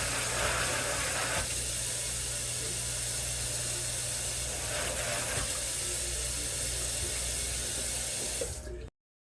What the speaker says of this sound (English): you can then rinse the parts and place in your dish drainer